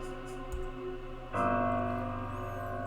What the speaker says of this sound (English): It plays a melodic sound effect, that piano noise you heard.